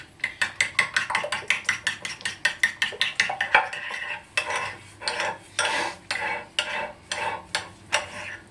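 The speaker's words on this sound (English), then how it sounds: "we're going to mix these through thoroughly." Soda bread ingredients with yogurt being mixed in a bowl, a fast rhythmic series of scraping, clicking strokes of a utensil against the bowl, steady at first then looser and heavier, close and alone without talk.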